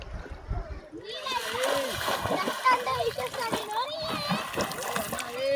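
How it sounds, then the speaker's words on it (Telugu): Water splashes and sloshes as a man swims and ducks under in a shallow summer river near Bhadrachalam, while people talk and a child chatters nearby. "మా కన్నయ్య ఎలా మునుగుతున్నాడు చూడండి వాటర్ లో."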